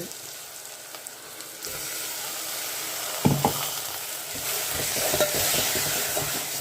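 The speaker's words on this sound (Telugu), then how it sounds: "ఇది బాగా 5 నిమిషాలు బాగా వేగనివ్వాలండి." Ground onion and spice paste frying in a pan for a sorrel-leaf chicken curry: a continuous sizzle and crackle that swells louder halfway through, with a few clinks and scrapes of stirring.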